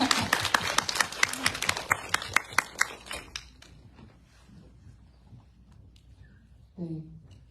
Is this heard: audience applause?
yes